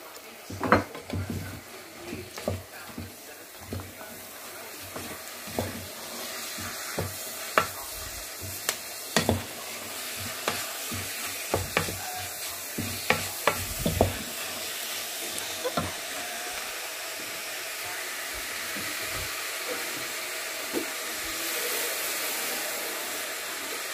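Onion for traditional scouse goes into a pan, followed by a string of sharp utensil taps and clinks against the metal. A steady frying hiss settles in underneath and carries on alone toward the end.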